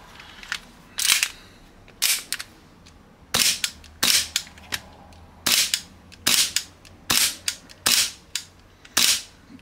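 Repeated sharp shots from a Hi-Capa airsoft pistol fitted with a COWCOW pink nozzle, about a dozen crisp cracks fired in an uneven rhythm, loud and close with no talking.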